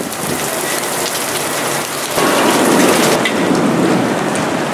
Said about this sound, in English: Storm just blew in